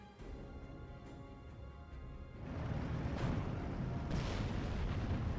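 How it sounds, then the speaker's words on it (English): Heavy bombing from Heinkel 111 bombers in the Steel Division 2 war strategy game, a continuous low rumble of explosions that swells louder partway through, with sharper blasts bursting out near the end. "the Heinkel 111, which does a great job in bombing constantly"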